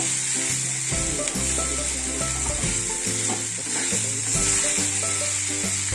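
Sabudana khichdi fries and is stirred in a pan, sizzling loudly and steadily over soft background music.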